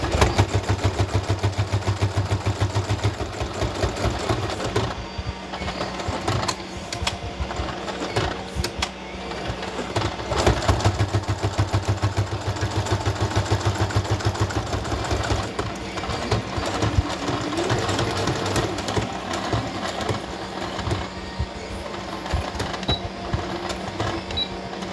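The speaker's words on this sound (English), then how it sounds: "So I'll do like a stitch, lift the foot, do a stitch, lift," A sewing machine stitching a handmade pocket folio, with repeated bursts of rapid mechanical needle chatter separated by short pauses and clicks, close and fairly loud.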